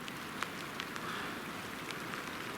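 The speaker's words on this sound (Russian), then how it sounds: "Только мы пообедали, не успели выдвинуться, и начался дождь." Rain falls steadily during a mountain hike in the Altai, a soft even patter with scattered sharper drops landing nearby, fairly quiet and without voices.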